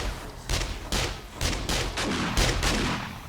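Gunfire in the zombie survival game 7 Days To Die, a run of about eight sharp shots at irregular intervals, loud and close with no talk.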